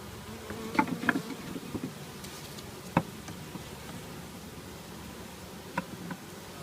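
Honey bees buzz faintly around a top-bar hive during installation. A soft, continuous hum runs under a few scattered ticks and taps from nearby handling.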